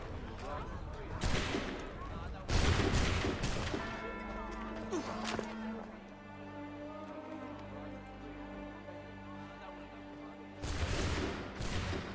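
Musket volleys in the video game Assassin's Creed 3: a few loud, broad blasts with rolling echoes, spaced apart, the last near the end, amid music and background game sounds.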